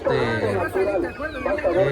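Chickens cluck and squawk close by at a busy market day in Tlaxiaco, Oaxaca, Mexico, while muffled voices chatter in the background.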